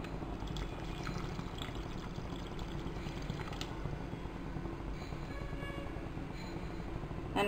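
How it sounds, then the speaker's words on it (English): Water is poured into chickpea masala as it cooks, a steady close pour of liquid into the pan running continuously throughout with no talk. "Now add a little more water."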